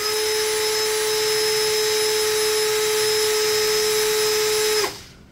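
An electric drill spins steadily at speed setting 2, running at about 1715 RPM with a constant high whine and hum, then winds down and stops just before the end.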